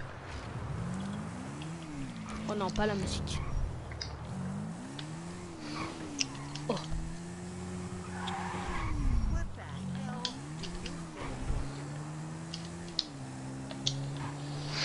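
A motorbike in GTA 5 revs through rising and falling engine notes with occasional tyre skids, heard at moderate distance under ongoing speech.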